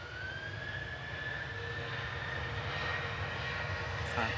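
Ryanair airliner arriving from Palma at Manchester Airport, a steady distant engine drone with a faint whine, unbroken and moderately quiet throughout.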